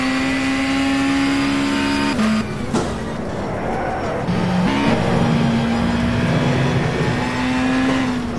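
An Audi race car in the rFactor racing game drones with a loud, sustained engine note that dips and shifts pitch through gear changes, then climbs steadily again, with faint tyre skidding.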